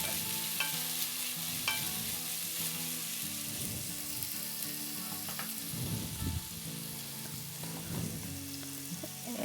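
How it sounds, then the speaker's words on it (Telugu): Chopped red onions frying and being stirred in a pan until golden brown, a steady close sizzle with scraping stir strokes throughout and no talking. "ఎర్రగడ్డల్ని బాగా గోల్డెన్ బ్రౌన్ కలర్ వచ్చేంత వరకు వేయించుకోవాలండి"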